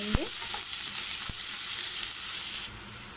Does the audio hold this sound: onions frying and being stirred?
yes